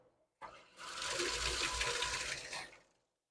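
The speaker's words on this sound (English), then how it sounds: "Here we've got our tankless water heater, and this is the condition that I found it in." A faulty tankless water heater kicks on with a short click, then runs with a steady rushing, buzzing whir for about two seconds before cutting off into silence.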